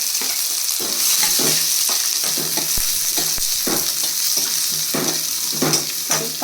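Garlic and then onion frying in oil in a pan for a tomato and ginger lentil curry, a steady loud sizzle broken by repeated stirring scrapes, with no talk.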